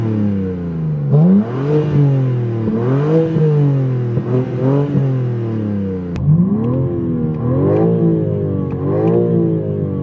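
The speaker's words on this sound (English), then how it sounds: "now it's this silky smooth sounding inline-6" The inline-6 engine of a 2021 BMW M3 revs repeatedly, heard from inside the cabin, with each smooth climb in pitch followed by a drop, in several loud, even pulses.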